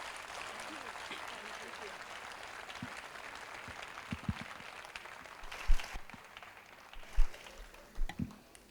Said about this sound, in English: I think you can give them a big clap.